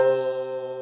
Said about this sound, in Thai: คุณครูเอาอีกมือหนึ่งไปกดคีย์บอร์ดนะครับ